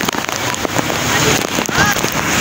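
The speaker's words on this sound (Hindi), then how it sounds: "तो कराची में बरस रहा भाई" Heavy storm rain pours down in Karachi, a dense, steady roar of drops striking nearby surfaces, loud and close throughout.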